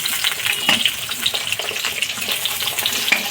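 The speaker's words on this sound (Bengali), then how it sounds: "বেগুন ভাজতে বেশি সময় লাগে না, বেশি ভাজলে আবার বেগুনটা গলে যাবে।" Eggplant slices frying in hot oil in a pan on a gas stove, a steady bright sizzle with small crackling pops running continuously and fairly close.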